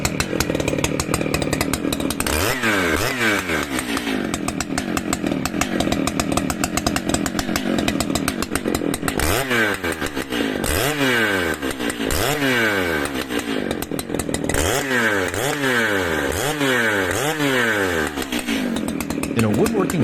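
A chainsaw cuts into a huge old oak trunk in a woodworking shop, its engine running loud and continuous with repeated revving surges as the blade bites, and a voice speaks over it.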